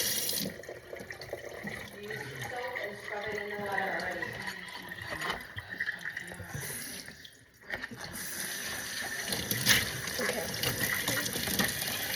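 Tap water runs steadily into a sink while an item is rinsed, giving a continuous close splashing rush. A short dip comes partway through before the flow resumes.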